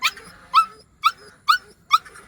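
A goat-farm dog gives five short, sharp yelping barks with a whiny edge, evenly spaced about half a second apart, fairly close, with a soft background.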